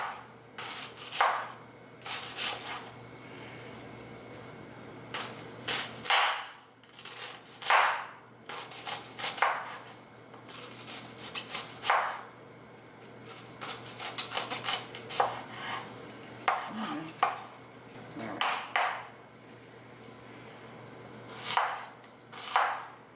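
Knife chopping onion into thin strips on a board, with close, crisp rapid bursts of cuts in short runs separated by brief pauses.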